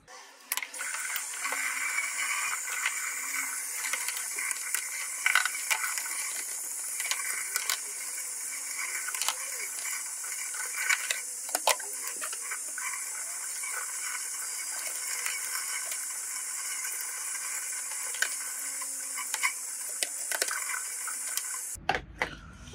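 Running water rinses the lint filter of a Vestel KM 106201 10 kg tumble dryer, a steady close hiss of flowing water with small clicks and handling knocks throughout, no talk.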